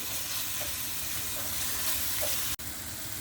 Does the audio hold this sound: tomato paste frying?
yes